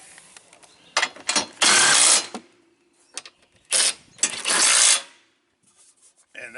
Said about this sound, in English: now you're going to take a 13mm and you're going to tighten the other 2 down